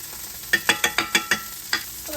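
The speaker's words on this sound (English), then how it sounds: "Gonna add your zucchini in here. And the whites of your onions. We're gonna add that garlic." Zucchini, onion whites and garlic sizzle in a pan, with a soft steady frying hiss and a quick series of stirring scrapes close by.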